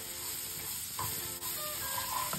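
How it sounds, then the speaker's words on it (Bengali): Onion sizzles steadily as it fries in oil in a pan, with a few stirring scrapes; no voices. "এবার পেঁয়াজটা ভাজা হচ্ছে"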